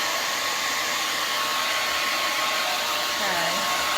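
A handheld blow dryer roars steadily and close while drying long hair, a loud unbroken whooshing hum with slight shifts in tone as it moves, and no voices.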